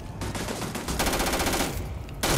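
Turret gunfire in the Starfield video game: steady rapid automatic bursts at moderate loudness, continuous throughout with slight gaps, with a sharper hit at the end.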